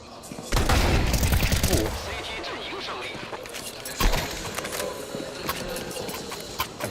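Rapid MP9 submachine-gun bursts in a Counter-Strike match, a dense volley early then scattered shots, heard under continuous commentary.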